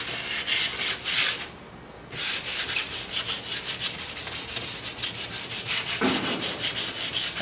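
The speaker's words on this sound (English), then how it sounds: "Now with a sanding pad, the advantage really is that you'll have the pad going into your fuller." Quick full-length strokes of a sanding pad along a sword blade and its fuller, a rhythmic scraping rub repeating steadily up close, with one brief pause near the start.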